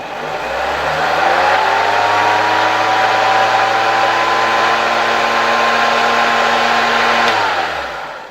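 A 1972 Hoover 1346A vacuum cleaner motor spins up and runs with a loud, steady whine and hum, holding an even pitch for several seconds before winding down at the end, with no voices over it.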